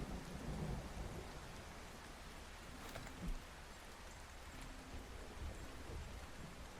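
Steady rain hisses through a thunderstorm in the game OutBRK, with low thunder rumbling underneath and a couple of brief louder bumps. The whole scene stays quiet and distant, and no one speaks.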